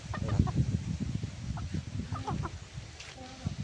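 Gamefowl chickens at a game farm cluck in short uneven bursts, fairly close but soft, with faint voices mixed in.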